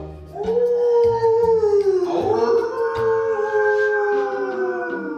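A dog howls loudly and close by in long, wavering, rising cries that run almost without break, with a short whimpering dip in the middle.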